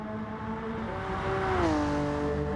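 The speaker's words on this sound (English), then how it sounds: "It just sounds like a Formula 1 car, that Honda, doesn't it?" A high-revving Honda racing engine in a video game at Le Sarthe drones steadily, its pitch dipping briefly and then holding, a smooth mechanical whine at moderate loudness.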